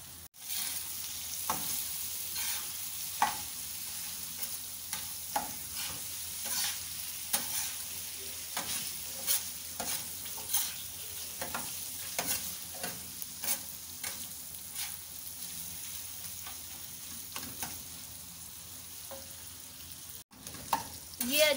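Qeema with yogurt fries on a tawa for Lahori qeema, with a constant sizzle under repeated rhythmic scrapes of a spatula stirring the mince, close up and without speech.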